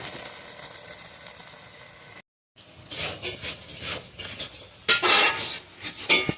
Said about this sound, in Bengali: পটল ভাজা হয়ে গেছে, ঢেঁড়স ভাজা হচ্ছে বন্ধুরা।